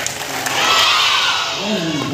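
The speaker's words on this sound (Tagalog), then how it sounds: "grabe ang sisigan ng mga bata dito sa bulan sa saban na alingap" Children shout and cheer together at a welcoming event in Sorsogon, a bright, close, swelling wall of young voices that peaks midway and eases off toward the end.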